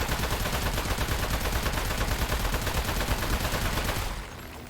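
Rapid sustained gunfire at a clay enemy in A Plague Tale: Innocence, a dense loud rattling burst of shots that stops abruptly near the end.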